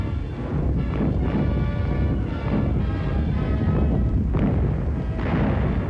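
Heavy WWII bombardment during the Battle of the Scheldt near Antwerp, Belgium, in 1944: a continuous loud rumble of artillery and bomb explosions with repeated deep booms rolling over one another, no speech.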